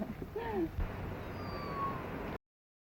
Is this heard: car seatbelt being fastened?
no